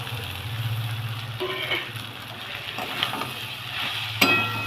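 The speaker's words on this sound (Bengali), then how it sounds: "এবারে দিয়ে দেবো ভেজে রাখা সয়াবিন" Fried soybeans sizzling and being stirred into a pan of cooked-down tomato and ginger, a steady close frying hiss with scraping stir sounds and a sharp clatter near the end.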